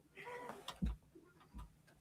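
A house cat meows indoors, a few short faint calls at close range with quiet room noise between them, in a home where a group of people gather.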